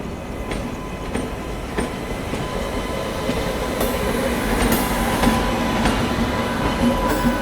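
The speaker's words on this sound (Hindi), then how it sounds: "ट्रेन अपनी जो है पंडित दीनदयाल उपाध्याय पहुंच रही है" Sealdah–New Delhi Rajdhani Express pulling into Pandit Deen Dayal Upadhyaya station, a steady rumble of wheels over the rails with rhythmic clickety-clack joints and faint wheel squeal, heard from on board with no talking.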